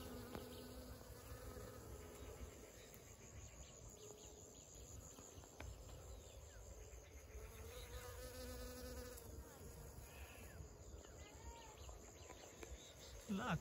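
Honeybees hum in a field in a low, continuous drone from many insects, faint and steady, with occasional louder buzzes as individual bees pass nearby.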